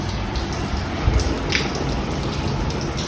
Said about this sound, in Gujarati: સમજો વરસાદ